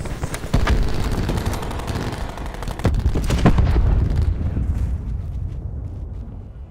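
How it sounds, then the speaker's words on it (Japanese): A grenade blast and gunfire in Call of Duty Black Ops 4 make a loud, dense barrage of rapid shots and booming bursts that thins out and fades toward the end. "グレネードを投げる。"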